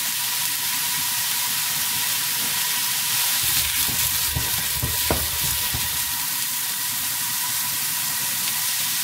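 Cevapcici sausages fry in a hot pan with a steady, close sizzle and faint crackle, swelling briefly around the middle as the meat is stirred and turned, with no voices.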